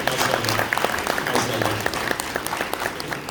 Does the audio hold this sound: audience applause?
yes